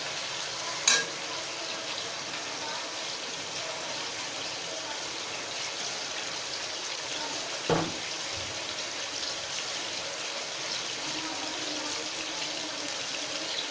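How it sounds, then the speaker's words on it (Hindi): Two tablespoons of ginger-garlic paste fry in a hot pan with a steady, even sizzle throughout, broken by a couple of brief sharp clicks of a utensil. "ये देखिए, इसको फ्राई करते हुए मुझे 2 मिनट हो चुके हैं"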